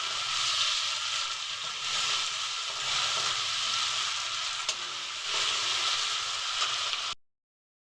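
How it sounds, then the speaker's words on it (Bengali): Ginger-onion paste masala fries steadily in a pan, a continuous close sizzle with soft stirring scrapes, cut off abruptly near the end. "দিয়ে ভালো করে মশলাটাকে ভাজবো যতক্ষণ না কাঁচা গন্ধটা চলে যায়"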